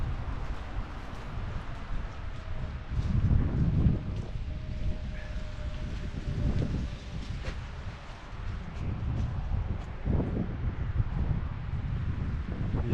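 Steady wind blowing on a seaside beach at Ustka, a continuous low rumbling roar with gusts swelling and easing throughout, close to the microphone and buffeting it, with no clear voices.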